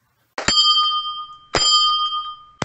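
A bell notification sound effect chimes twice, each a sharp bright ding with a ringing tail, about a second apart, followed by the start of a third; loud and clean with no talk.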